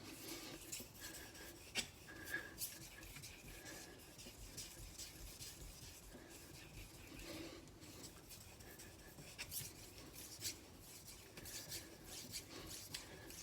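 A kitchen knife is drawn across a whetstone in a quiet, continuous scraping rub with small rhythmic strokes, faint and close.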